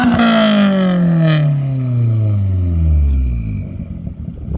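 A car engine revs hard, its pitch sweeping down as it falls back, with exhaust roar and a wastegate blow-off hiss near the start, loud and close.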